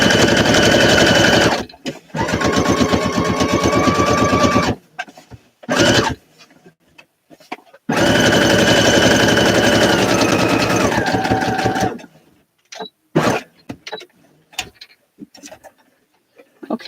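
Sewing machine running a top stitch line along a denim jacket seam, loud close mechanical rattling in two long continuous bursts of several seconds each, separated by short stop-and-start spurts and quiet gaps.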